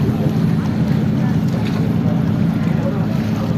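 A ship travels across the Bosphorus, heard as a steady, loud, low engine rumble mixed with continuous wind buffeting.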